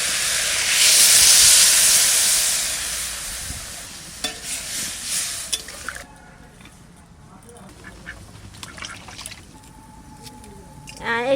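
Water poured into a hot pan of fish with turmeric and salt hits with a loud, bright hiss that fades over a few seconds, followed by quieter bubbling and scattered clinks of stirring, with no speech.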